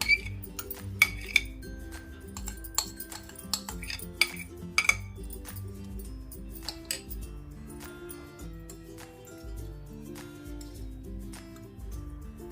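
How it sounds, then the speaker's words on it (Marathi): A spoon scrapes jaggery and wood apple pulp into a metal kadhai, giving quiet, irregular metallic clinks and scrapes over a soft background hum. "कढईमध्ये आपण हे गूळ आणि कवटचा जो गर काढलेला होता तो आपण काढून घेऊया"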